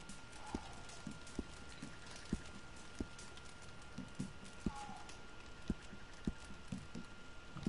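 Steady clip-clop of horse hooves trotting at an even rhythm in Red Dead Online, with a brief whinny, set against a low background hiss.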